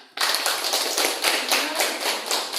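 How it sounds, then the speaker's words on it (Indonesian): Students clapping together in a classroom, a sustained burst of close, dense applause that begins abruptly and keeps a steady pulsing rhythm to the end. "Kita berikan tepuk tangan"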